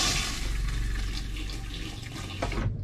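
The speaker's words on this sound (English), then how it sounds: "And all you do to flush the toilet is step on it." An RV toilet flushed by stepping on its foot pedal, with water rushing steadily into the bowl for nearly three seconds, fairly loud and close, then cutting off abruptly near the end.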